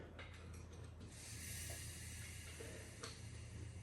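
Engine of a Firebird turned over slowly by hand with a wrench to reach the flex plate, giving a steady mechanical ratcheting and grinding under a constant broadband hiss, fairly close, with no talking.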